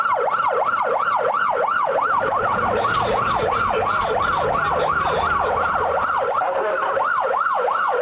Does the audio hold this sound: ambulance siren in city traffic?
yes